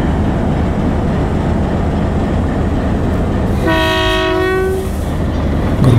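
Mehar Express train sounding a loud, sustained multi-tone departure horn for about a second, standing at a station over constant rumbling engine and yard noise.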